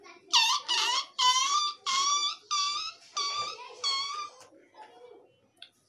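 A person vocally imitates a puppy's call: a run of about seven high, whining yelps in steady rhythm, close and clear, fading into a faint whimper at the end.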